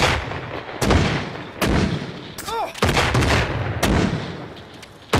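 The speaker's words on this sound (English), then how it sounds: "So they're firing 10 shots" Artillery in a video game fires a volley: about five sharp, loud blasts land roughly a second apart, each trailing into rumbling decay, with a brief warbling whistle midway.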